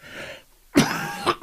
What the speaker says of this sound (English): the man who can't stop coughing